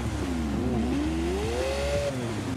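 A 6.5-liter naturally aspirated Lamborghini V12 in Forza Horizon 5 revs up and down in a smooth, rising and falling wail, loud and close, with no voices.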